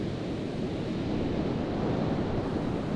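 Ocean surf on a seal breeding beach washes in a steady loud roar, with broad continuous wave noise and wind buffeting the microphone.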